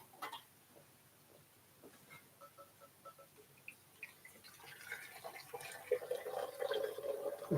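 Hot water poured for coffee: faint scattered clicks and handling noises give way to a swelling, splashing pour that grows louder and rises toward the end.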